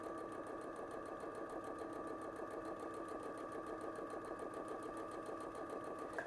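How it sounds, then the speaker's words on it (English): A sewing machine runs steadily, stitching scrunchie fabric with a fast, even mechanical rattle and a constant motor hum close by, uninterrupted for the whole stretch. "We're going to go ahead and start stitching. I'm going to make sure to do a back stitch to really enforce those stitches."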